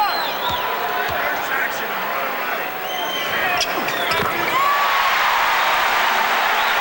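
Arena crowd at the 1991 NBA Finals, Chicago Bulls against Los Angeles Lakers, a loud continuous roar and cheering that swells toward the end, with squeaking sneakers and bouncing ball beneath a commentator's voice.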